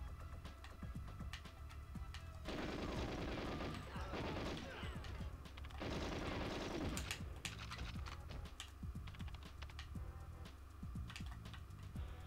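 Bursts of rapid automatic gunfire in the GoldenEye 007 video game, on the Cradle level, crackling in two dense volleys with scattered single shots and clatter between, close and sharp with no talking.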